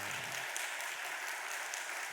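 A church congregation applauds its Sunday school teachers during a Sunday worship service, producing steady, dense clapping that holds at an even level from start to finish with no speech.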